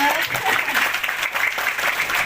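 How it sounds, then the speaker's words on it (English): An audience at an international symposium on Islamic architecture at UIN Jambi claps in sustained, dense applause for about two seconds, loud and even. "Okay, applause please, ladies and gentlemen."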